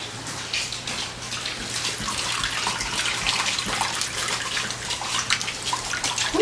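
Chicken broth poured and strained during home processing of broiler chickens, a steady splashing, trickling flow of liquid held at close range for several seconds, with a low hum running underneath.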